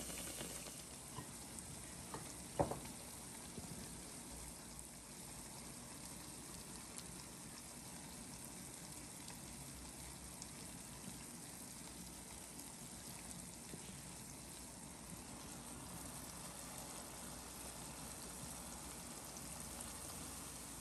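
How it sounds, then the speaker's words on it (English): Guyanese bara dough fries in hot oil, giving a soft, even sizzle that runs steadily for about twenty seconds, faint and fairly distant, with one brief clatter near the start and no talking. "You want to fry them until they have a light golden brown color"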